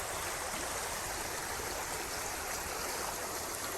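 A creek running full after a flood-watch downpour, a dense, steady rushing and gurgling of water, close and continuous with no voices.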